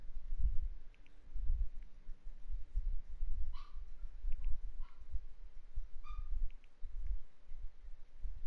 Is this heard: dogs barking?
yes